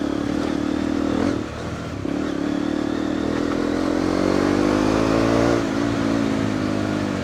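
An off-road vehicle's engine pulls hard after a shift into third gear on a hill ride, a loud, close steady roar with a brief dip followed by rising revs.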